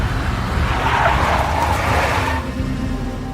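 A big black Mercedes in the PC game Max Payne speeds past with a loud roaring engine and a tire skid, rising and then easing off over a few seconds, with no voices.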